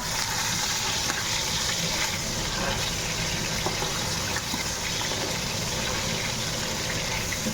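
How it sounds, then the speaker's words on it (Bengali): Stingray pieces rubbed with salt and turmeric fry crisp in a pan, giving a steady, dense sizzle and crackle that fills the whole stretch at close range with no one talking. "এইখানে এই যে শঙ্কর মাছটা ভাজা হচ্ছে"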